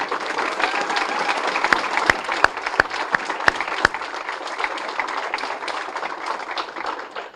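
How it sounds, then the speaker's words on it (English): Audience applause at a Boys and Girls Club Youth of the Year ceremony, a dense burst of clapping with a few sharp louder claps standing out early on, then tapering slightly. "Let's give them a round of applause."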